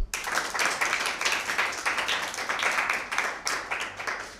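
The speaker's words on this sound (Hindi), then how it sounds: "अपने लिए एक भरपूर तालियां" Girls at a Sacred Heart Cathedral school Bible quiz applaud the competing teams: brisk, fairly close clapping in quick bursts that rises and dips in waves, then tails off.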